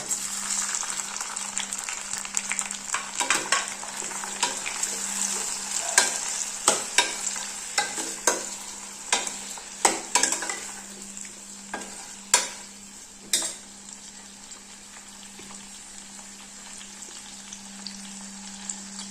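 Onions and tomatoes sauté in a pan for drumstick sambar with a continuous close sizzle. Irregular scraping stirs punctuate it throughout, and no one talks.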